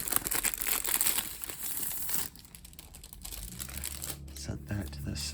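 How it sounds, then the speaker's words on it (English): A sticky tape seal peels off plastic packaging on a game collector's edition box, a loud crinkling rip at first that fades into quieter plastic rustles and handling, with someone talking over it. "so it's just a little like tapey type seal that can easily peel off"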